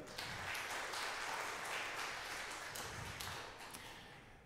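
Faint applause from a church congregation, a dense patter of many hands clapping that gradually tapers off.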